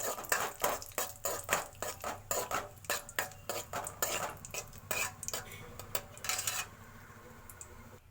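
Cashews and raisins fry in ghee while a spoon scrapes and clinks steadily against the pan in a quick, regular stirring rhythm, with only a faint sizzle underneath; the clinking stops near the end.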